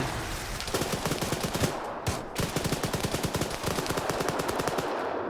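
Sustained rapid machine gun fire in the military shooter Arma 3, loud and close with dense bursts of rattling shots and barely a pause, no voices over it.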